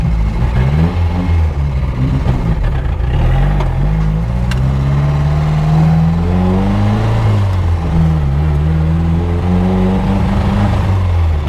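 Chevy Luv pickup truck engine driving along, revving up and dropping through downshifts with rising and falling pitch, a rough, loud, continuous drone heard close with no talking.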